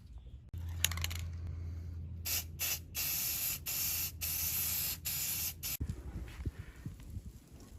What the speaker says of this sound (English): just hit it with a quick little shot of Rust-Oleum just to clean it up, make it look nice